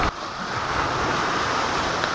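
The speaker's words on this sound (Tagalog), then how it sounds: "Tingnan nyo naman yung dagat," Sea waves wash steadily onto a shore in bright midday sun at high tide, a loud continuous surf roar with wind buffeting the microphone and no voices.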